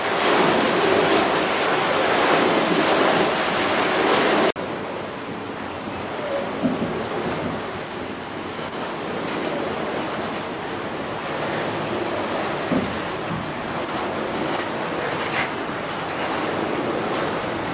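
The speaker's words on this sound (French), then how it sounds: "Là, vous voyez la roue à eau. C'est gigantesque." Large water wheel at the Abbé water mill in La Mothe-Saint-Héray turning under flowing water: a steady, close rush of water throughout, fuller in the first few seconds and then slightly softer, with a few faint high chirps above it.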